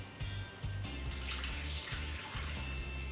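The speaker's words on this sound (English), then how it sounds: "Just gonna wash my green onion." A kitchen tap runs close by while green onions are rinsed under it, a steady splashing stream broken by uneven low thumps as the water hits the stalks and sink, with no talk.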